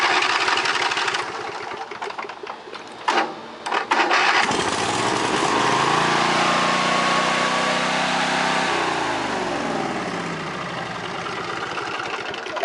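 A 2000 Briggs and Stratton 656cc 18hp V-twin Intek engine in excellent condition cranks, sputters, and catches, then settles into a loud, steady idle with a throbbing mechanical drone, close by.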